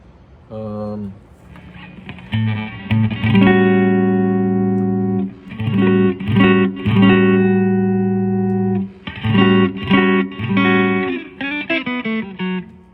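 Electric guitar played through a 1983 Fender Princeton Reverb II amp with its reverb on, clean sustained chords and single notes in bursts separated by short pauses, with a reverb tail, close and fairly loud.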